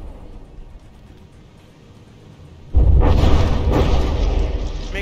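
A loud, sudden explosion strikes a battleship in the naval combat game From the Depths, bursting in with a heavy boom and rumbling on as a sustained roar after a quieter stretch.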